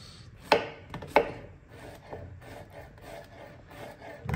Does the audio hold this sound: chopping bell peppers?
yes